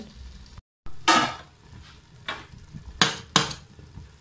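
An old frying pan or plate lid is set down on a stove in a home kitchen while making chicken biryani, giving a few separate close metallic clanks and knocks with short gaps between them.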